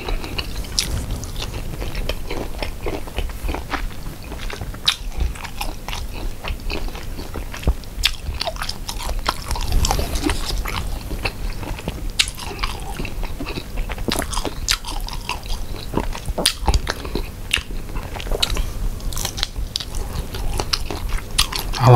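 Close, crunchy bites and wet chewing of raw Thai shrimp larb dressed with lime, steady mouth sounds repeating throughout with no talking.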